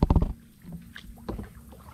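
A kayak paddled on a creek with a carbon paddle: a close splash and stroke of water at the start, then softer watery movement and wind rumble around the boat.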